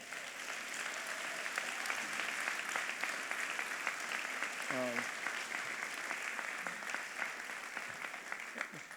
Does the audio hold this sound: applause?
yes